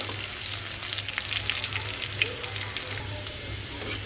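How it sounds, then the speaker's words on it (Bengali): Garlic frying in hot oil in a home kitchen pan for a bottle gourd greens dish, a steady close sizzle with crackling throughout and a low intermittent hum underneath. "তেল গরম রসুনও দিয়ে দিয়েছি এখন রসুনটা ব্রাউন কালার হয়ে আসলেই সাথে দিয়ে দিব"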